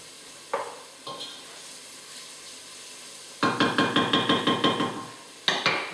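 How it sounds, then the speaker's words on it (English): Garlic frying in a pan, with a few soft clinks early on, then a burst of rhythmic stirring and scraping that rises over the hiss and repeats about eight times before a final stir, close and fairly quiet. "Give it a little stir,"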